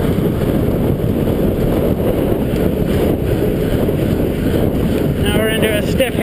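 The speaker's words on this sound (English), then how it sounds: "Now we're into a stiff headwind" Loud, steady wind roar buffets the microphone of a cyclist riding a Cannondale F4000SL into a stiff headwind, a continuous rushing blast that never lets up.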